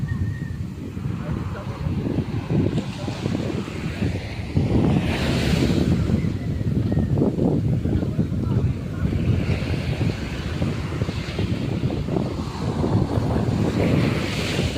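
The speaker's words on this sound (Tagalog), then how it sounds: "Yan, laka ng alon." Strong ocean waves roll and crash onto the shore in a continuous loud surge, buffeted by heavy wind noise on the microphone, with people talking faintly beneath the roar.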